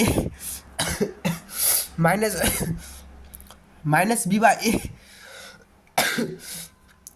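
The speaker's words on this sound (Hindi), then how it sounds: "देखिए दोस्तों थोड़ी खांसी हो रही है।" Coughing breaks up a man's speech, with short harsh bursts between stretches of talk.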